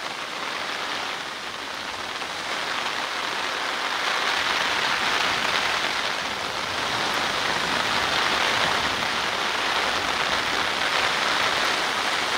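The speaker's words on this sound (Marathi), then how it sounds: "पनवेल शहर परिसरात पावसाचे थैमान सुरू असून गाढी नदीला पूर आला आहे." Heavy monsoon rain pours down steadily during flooding in Panvel, a dense, unbroken wash of noise that swells slightly after the first few seconds and holds loud to the end.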